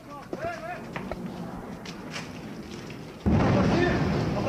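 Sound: distant explosion

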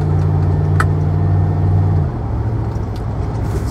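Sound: Ford car with 4R70W transmission started for a test drive

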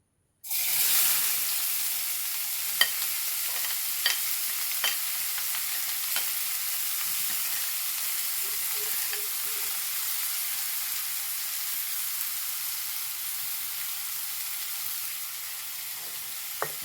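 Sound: onion frying in hot oil

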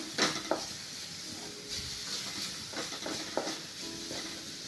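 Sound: grated coconut being roasted and stirred in a pan

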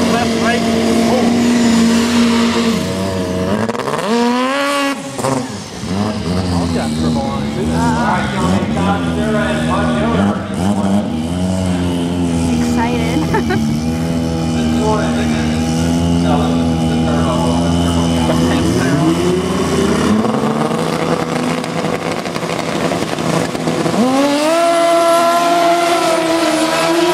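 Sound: motorcycle and snowmobile racing engines

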